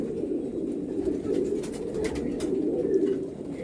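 Male pigeons, large-eyed domestic birds, coo steadily in a low, throaty rolling drone that continues without a break, close by with faint chirps scattered above.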